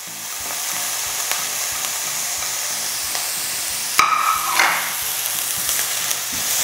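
Ginger and onion sautéing in a pan for ginataang sitaw at kalabasa, a continuous sizzle with light rhythmic scraping of stirring and a brief sharper burst of hiss midway, no voices.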